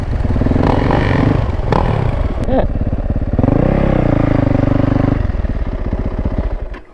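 A 450 dirt bike engine drones loudly and close, its pitch rising and falling as it revs during a ride, with a few rattling clatters over the steady buzz.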